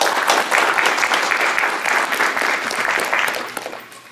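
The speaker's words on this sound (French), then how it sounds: "je pense que ça s'applaudit." Audience applause at a Paris invitational tournament, dense and steady clapping from a crowd throughout, loud and close, with no talk over it.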